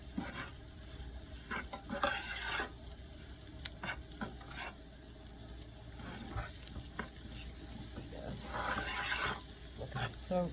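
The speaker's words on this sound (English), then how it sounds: "on top of the sausage. And then with the butter, get all that nice and incorporated together." Sausage with butter stirred in a hot pan, steady sizzling and frying under repeated scraping and clacking of a utensil against the pan, close and continuous.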